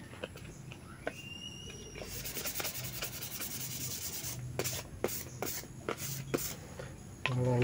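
Hand-sanding a wooden knife-sheath handle carved from tree root with 400-grit sandpaper: a steady rasping rub, then quick repeated back-and-forth strokes, close and fairly quiet.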